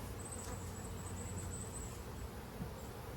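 Honey bees buzzing around an open beehive outdoors, a continuous soft droning hum under faint broadband background noise, steady and fairly quiet with no talking.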